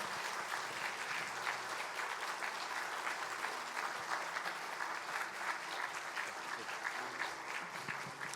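A church congregation applauds together at a Sunday joint worship service after the appointment of new lay shepherds, a dense, steady wash of many hands clapping that continues evenly throughout without pause.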